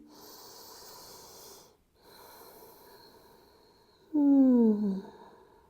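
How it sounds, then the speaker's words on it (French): Slow, deep breaths during a yoga relaxation drift in soft and close: a long airy exhale, a short pause, a second gentle breath, then a louder, rougher snorting intake near the end. "Inspire, expire."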